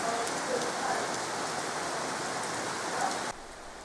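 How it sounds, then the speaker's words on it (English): Heavy rain pours down in a dense, steady hiss, with occasional drips standing out, before the sound drops slightly at the end. "Never has rain been so beneficial."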